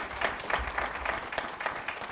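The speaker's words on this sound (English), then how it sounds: "Let's please give Angela and her team a round of applause" Applause for Angela and her team at a Newport News Law Day open house, a small group clapping unevenly in a series of soft, scattered bursts.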